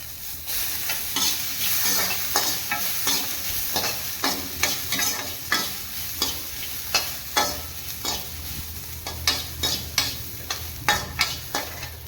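Whole spices and coconut roasting in a pan for elephant foot yam sambar, steady sizzling crackle broken by regular scraping stirs of a spatula, close and continuous.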